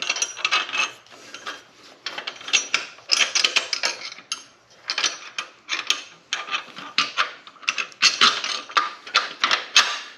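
Four bolts are slid through a new trailer jack bracket on a log splitter, then a small metal plate is fitted over them, making close, repeated metallic scrapes, rubs and clinks in irregular bursts throughout, with no talking.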